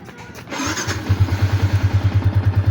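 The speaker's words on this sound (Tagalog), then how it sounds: "sabay open ng motor, then brum brum" A Yamaha Sniper motorcycle engine cranks and catches, then settles into a loud, close, steady low idle pulse with no talk.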